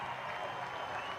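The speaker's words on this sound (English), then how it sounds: "a big round of applause" Crowd applause at the Chennai Marina air show greets a paratrooper's landing, a brief, fairly faint wash of clapping from a distance.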